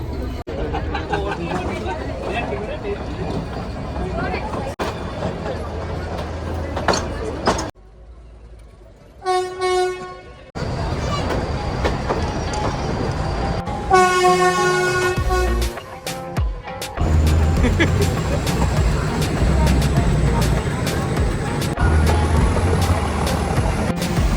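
A Nilgiri Mountain Railway train between Coonoor and Ooty rumbles along steadily with a couple of tonal horn blasts partway through, and voices talk over the noise.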